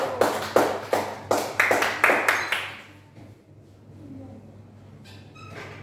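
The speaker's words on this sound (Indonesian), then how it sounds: "Beri tepuk tangan untuk kelompok 1." A short burst of rhythmic clapping from a small class group in a microteaching session, about eight even claps, then it fades into quiet room tone.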